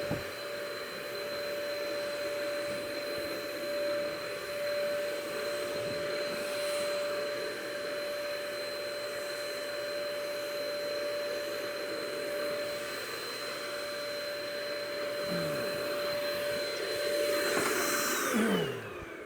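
Earlex 5500 Spraystation paint sprayer running steadily with a loud, even whine and hiss, shutting down near the end.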